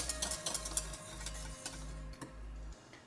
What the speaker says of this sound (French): Il faut remuer constamment pour éviter que le fond de la casserole ne brûle.